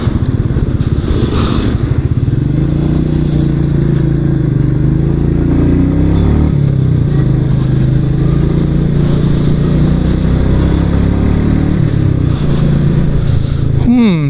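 A 2021 Royal Enfield Meteor 350 BS6 motorcycle engine thumps steadily and loudly up close for the whole stretch, a continuous low rumble while riding.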